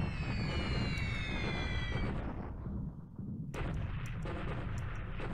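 Explosions from bombing raids in a hex-based wargame video game, heard as continuous dense rumbling blasts with crackling bursts and brief sweeping tones, loud and close, with no talking.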